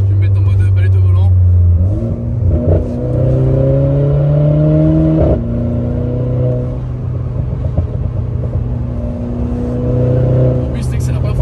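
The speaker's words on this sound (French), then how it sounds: "En plus c'est que c'est la première fois que je fais un launch control." A car launches hard using launch control, its engine heard from inside the cabin surging through several quick upshifts with rumbling, rising revs, while people in the car talk over the noise.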